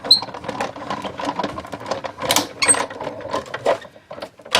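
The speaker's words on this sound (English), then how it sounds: "run it through your die cut machine" A die cut machine crank-rolls a card and metal dies sandwiched under a top plate, giving a steady mechanical whirring and clicking with irregular rattles and squeaks, fairly close and continuous for several seconds.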